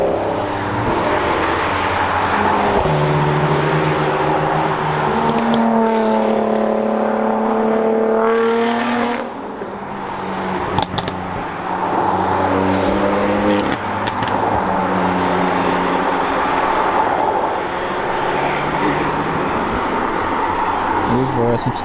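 Powerful supercar engines, including a Lamborghini Aventador, roar and rev as they speed past one after another on a mountain road at Chamrousse, with voices and crowd noise mixed in throughout.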